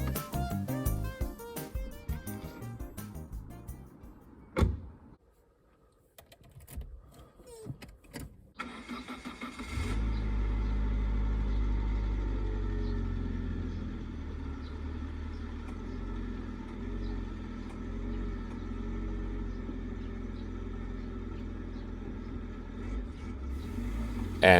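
Citroën BX engine in Gran Turismo 7, first a stretch of busy game sound, a brief lull, then the engine starting and settling into a steady low drone as the car drives, loud and continuous to the end.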